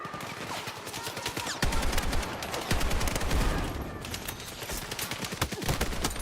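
Rapid bursts of gunfire in the video game Battlefield 6, with a sniper rifle in play, crack repeatedly and loudly amid a dense, continuous battle din with overlapping shots.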